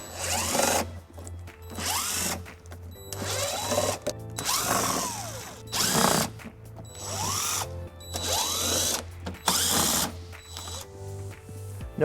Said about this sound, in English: There's 8 screws holding it in, and we're going to be using an 8mm socket to remove those.